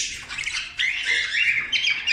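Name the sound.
canary squawking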